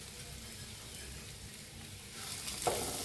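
Sesame seeds sizzling in a pan with bell pepper and gram flour over low heat, a faint steady frying hiss alone without talk, briefly louder near the end.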